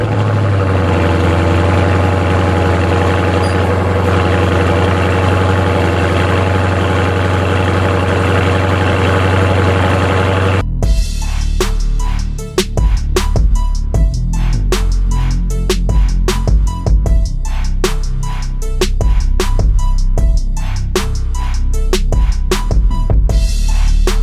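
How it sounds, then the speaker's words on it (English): A Scat Pack muscle car engine on a cold start: a steady hum gives way midway to a loud, close, rumbling idle with a choppy, throbbing pulse that continues to the end. "I'm gonna give you guys a little cold start"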